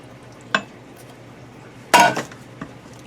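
Canned diced tomatoes with green chilies go into an Instant Pot for cannellini bean chili: two short, sharp clattering splats, the second louder and longer, then a faint knock, with quiet in between.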